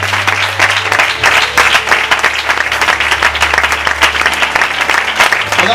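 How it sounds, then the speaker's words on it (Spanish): Church congregation breaks into loud, dense applause during an evening service, steady clapping from many hands with a faint low hum of an organ or amplifier beneath. "Le podemos brindar un aplauso al Señor en esta tarde."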